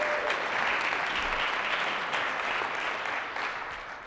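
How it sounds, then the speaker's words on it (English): A live audience at a morning event claps in sustained applause for a guest, a dense steady patter of hands that carries on throughout and tapers slightly near the end. "Let's give him a round of applause."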